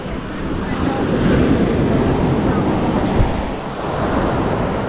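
Steady surf and wind at a beach in Nawiliwili, Kauai, a continuous broadband wash of breaking waves and gusts that buffet the microphone, loud and near throughout, with no clear voices.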